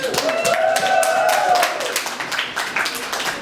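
Audience at a fan meetup in Paris clapping for a guest from Düsseldorf, a close burst of hand claps with voices and whoops mixed in that fades and thins after about two seconds.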